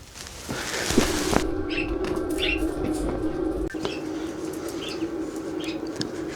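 Small birds chirp outdoors in a Turkish village in winter, short high tweets scattered over a steady background hum and noise, fairly close and heard alone without speech.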